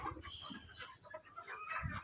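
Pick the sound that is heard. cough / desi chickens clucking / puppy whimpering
desi chickens clucking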